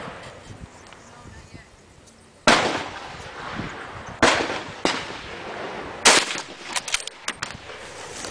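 Rifle shots fired on an outdoor shooting range in a crosswind, tied to Irish Army guns: four loud, sharp cracks spaced about a second apart after a quiet stretch, with smaller follow-up impulses between and after them.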